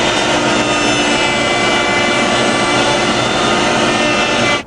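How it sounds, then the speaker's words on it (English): Slot cutting bit spinning in a router table, cutting grooves in wood for a Greene and Greene wall clock case; a loud, steady high-pitched whine with a broad roar underneath, holding constant for several seconds before cutting off abruptly. "I need to cut these grooves over at the router table with the same slot cutting bit"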